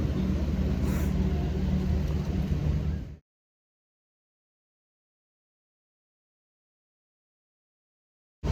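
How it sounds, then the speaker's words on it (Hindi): Heavy road traffic rumbles around a stopped vehicle, heard from the rear seat on a journey to the Mahakumbh gathering. A loud, steady low roar lasts about three seconds, then cuts to silence. "यहाँ पे बहुत ज़्यादा ट्रैफिक हो रहा है"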